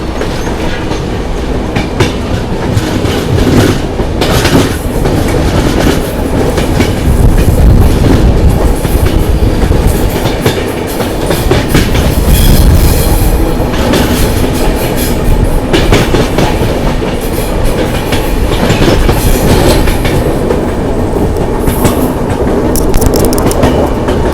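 A loud, continuous rumble of the Andhra Pradesh Express running on rails near Sevagram, Wardha, with rhythmic clickety-clack of wheels over joints and no speech.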